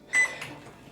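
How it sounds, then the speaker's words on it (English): A microwave oven heating a bowl of oatmeal gives a brief electronic beep followed by a faint, low hum, close and quiet. "So now we're gonna throw this in the microwave"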